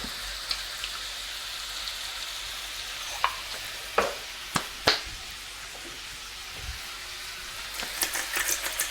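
Pork sizzles in butter in a pan for Norwegian lapskaus, a steady quiet crackle broken by several sharp spits and scrapes as it browns, with no talking.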